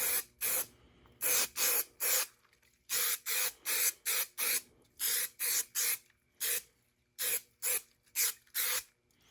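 Adhesive spray hisses onto a sponge gasket and plastic vent pieces for a 1973-79 Ford F-series truck, in about eighteen short, loud bursts spaced by brief pauses, with no talking.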